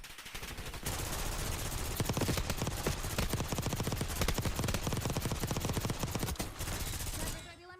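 Sustained automatic gunfire in Call of Duty, a rapid stream of loud shots firing nonstop for several seconds before cutting off near the end.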